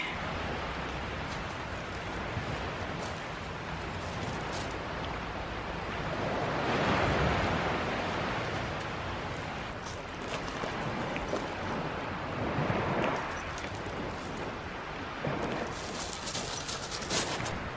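Waves wash onto a beach in Positano, a steady broadband surf roar with swelling surges and gusty wind noise on the microphone, no voices.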